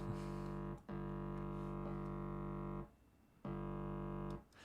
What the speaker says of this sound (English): the sounds you're hearing are from the Moog